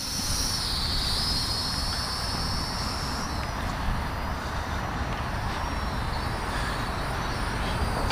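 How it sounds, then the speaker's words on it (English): Protocol Terracopter Evo drone propellers spinning in flight, a steady loud whirring buzz with a high whine that holds constant throughout, close to the listener with no talking. "just push the up, just like this, boom, and your props start, you can take off,"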